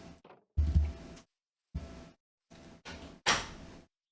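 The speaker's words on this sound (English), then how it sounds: "We'll close the door behind us." Wooden door in the Minecraft video game opening and closing, several short separate knocks and clacks spaced across a few seconds, clear and close with quiet gaps between them.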